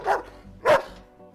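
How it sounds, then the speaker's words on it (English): A dog-barking sound effect: two sharp, loud barks up close, separated by a brief pause, with no other sound around them. "Can you hear the dog barking?"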